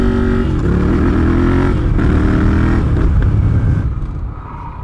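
A Triumph Street Scrambler motorcycle revs hard and loud during a wheelie, its engine roaring up close and steady before easing off and fading slightly at the end.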